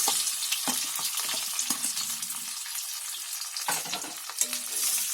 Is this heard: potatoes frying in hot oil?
yes